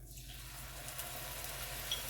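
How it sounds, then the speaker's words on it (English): Stock tipped into a hot pan of soya mince and onions gives a soft, steady hiss of liquid hitting the pan, faint and continuous with no talking. "I'm just going to tip my stock in."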